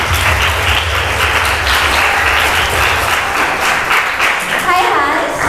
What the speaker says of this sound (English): Please give a big round of applause for our Hans this morning.